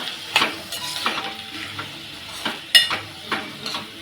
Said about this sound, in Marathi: आता हे मिक्स करून घेऊया